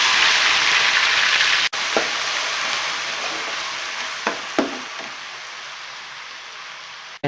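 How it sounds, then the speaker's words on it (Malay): Ground spice paste sautéing in hot oil for a Jogja-style goat trotter soup: a loud, steady sizzle fills the clip, broken by a few brief stirring knocks and clinks, with no voices. "bahan-bahan yang telah kita kisar, kita tumiskan"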